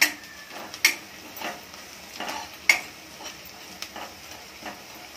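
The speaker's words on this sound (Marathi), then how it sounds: "धना पावडर 1 चमचा, जीरा पावडर अर्धा चमचा, मिक्स करून घेऊया।" Coriander and cumin powder are stirred into a pan of cooking sprouted moth beans, with soft scattered scrapes and a few sharper clinks of the spoon against the pan, quiet and close, no voices.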